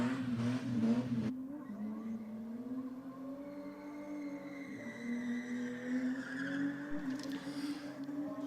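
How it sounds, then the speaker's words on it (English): A car doing a burnout at a night burnout event in Sydney, its engine droning steadily with harmonic revs that rise and fall over nearly nine seconds, tyre skid noise mixed in under a continuous crowd-like wash. "ready for burnouts?"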